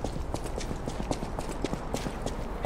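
Horse hooves clip-clop in a steady rapid rhythm in the video game Lies of P, loud and close, continuing throughout without speech.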